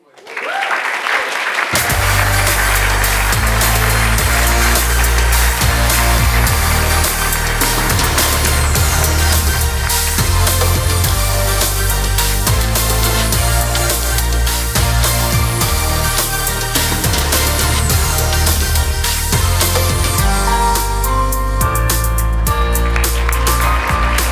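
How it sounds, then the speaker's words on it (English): An event crowd claps for a track winner at a startup challenge grand final, with dense steady applause over loud upbeat stage music for the whole stretch. "please give another big round of applause for the Energy and Environment track winner, Wayvex"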